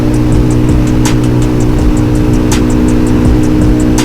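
A KTM 690 SMC R motorcycle being ridden, its engine holding a loud, steady drone with constant wind rush and no talking.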